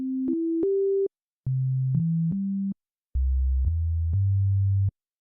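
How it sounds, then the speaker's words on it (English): Pure sine wave bass tones from the default patch of Logic's ESX24 sampler play as three phrases of three stepped notes each, clean and steady, separated by short silences with no talking. "In Logic, the ESX24 instrument, when you load it up, its default patch is a sine wave."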